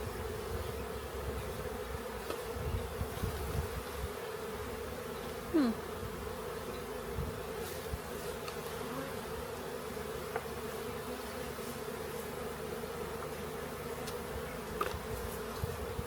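Honeybees buzz around the hives during an apiary inspection, a constant low drone of many insects, with occasional individual bees passing close and a few faint knocks.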